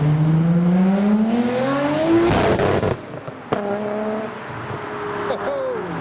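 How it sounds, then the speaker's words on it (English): A custom car at a road-closing car meet crackles with sharp exhaust pops in the distance, while a louder engine revs and sweeps past nearby, its pitch rising and then dropping away. "So we've got some pops in the distance."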